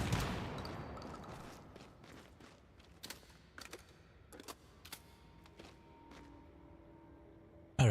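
Rockets fire in the video game Once Human as a series of sharp, separated bangs with tails, heard after a louder opening rumble. A final burst cuts in at the end.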